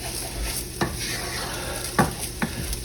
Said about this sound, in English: you need to roast the grains with the onions or shallots